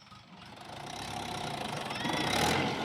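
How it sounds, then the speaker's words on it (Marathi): A tractor engine runs steadily on a farm, its low rumble growing gradually louder over a few seconds with no talk over it. "पण आता ट्रॅक्टर घेऊन आला"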